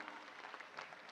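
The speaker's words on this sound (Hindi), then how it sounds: "एक बार जोरदार तालियां दीदी ऋतंबरा जी के चरणों में" A brief, steady burst of audience clapping at a poetry gathering, dense and fairly quiet, with no voices over it.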